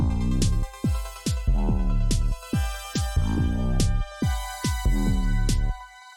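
A bright synth arpeggio through a shaper effect cycles through quick repeating note patterns, each phrase swelling and cutting off in a pulsing, gated rhythm, loud and alone.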